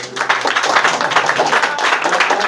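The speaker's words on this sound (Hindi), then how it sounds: "अब देखो ए भैया इस बिटिया के लिए एक बार जोरदार ताली बजाओ" An audience at a school prize-distribution ceremony applauds a girl student with loud, dense clapping that holds steady throughout.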